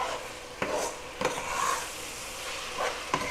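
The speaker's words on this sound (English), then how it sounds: "And now we're just I'm gonna stir this up." Goulash in tomato sauce is stirred in a pot, a low simmering hiss broken by several distinct scrapes and clinks of the spoon against the pot, close and without talk.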